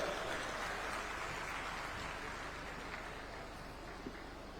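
Sustained applause from a large crowd at a closing ceremony of a national tribal dance festival in Chhattisgarh, a dense steady wash of clapping that holds at an even level throughout.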